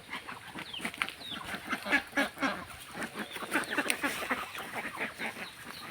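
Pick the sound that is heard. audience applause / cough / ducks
ducks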